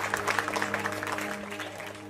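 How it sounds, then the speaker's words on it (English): Audience applause in a poker tournament hall for the winner of the PokerStars Championship Bahamas Main Event final table, a steady wash of clapping with a few whoops, at moderate level throughout with a low hum underneath. "let's get a big round of applause for the first ever winner of the PokerStars Championship"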